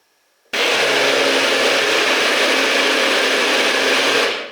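An electric blender whirs on abruptly and runs at a loud, steady roar while chopping cucumber, green pepper and small onions for gazpacho, then begins to wind down at the end.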